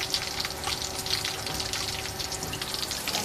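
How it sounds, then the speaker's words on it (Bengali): Onions and chillies frying in a pan for pasta give a steady, soft bubbling sizzle with faint crackles over a low background hum, close and continuous, with no speech. "পাস্তার জন্য পেঁয়াজ মরিচ ভাজতেছি।"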